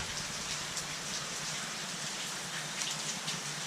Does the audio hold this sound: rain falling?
yes